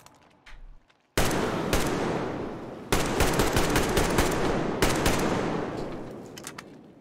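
Heavy automatic gunfire in Metro Exodus, long loud bursts of rapid shots with brief pauses between them, preceded by a few quiet sounds.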